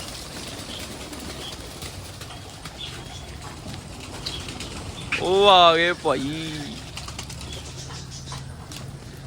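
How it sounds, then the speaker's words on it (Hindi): Pigeons being released to fly burst into a loud flurry of flapping wings at close range, a short rapid beating that stops after about a second, with someone speaking briefly and faint background noise. "काफी दिन हो गए यार हमने कबूतर नहीं उड़ाए"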